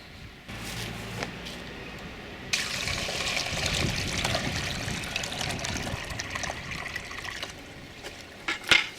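Plant transplant drench liquid pours and splashes steadily through a screen, close up, with a rushing, watery hiss that swells after a quieter start, no speech.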